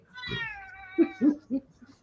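A cat gives a single close, drawn-out meow, followed by a few brief low vocal sounds.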